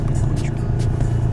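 An 1100-horsepower Nissan GT-R creeping sideways into a McDonald's lot in winter, its deep engine rumble steady and close inside the cabin, with people talking over it.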